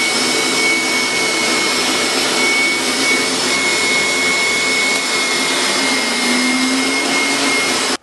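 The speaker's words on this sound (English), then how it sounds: "We're going to go ahead and turn on the carpet cleaner and see what happens." A carpet cleaning machine runs continuously at close range, a loud, steady vacuum-like roar with a thin high whine and no talking.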